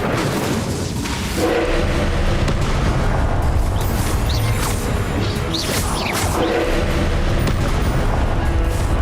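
A fire spell from Hogwarts Legacy goes off as a sustained, roaring burst of flame and crackling impacts, loud and dense for several seconds with sharp bright crackles scattered on top.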